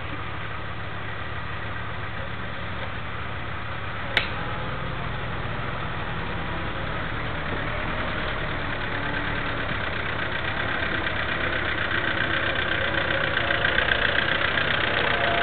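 A diesel engine idles in a steady, even drone that swells slightly toward the end, broken once by a single sharp click near the start; no one speaks.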